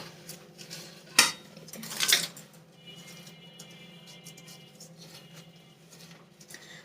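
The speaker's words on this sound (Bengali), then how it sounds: "সবগুলো যে একসাথে এটা আমি মিক্স করে নিলাম" Potato dish ingredients, including fried onions in mustard oil, are mixed together in a bowl. Two sharp clinks of a utensil give way to soft, quiet stirring and light scraping.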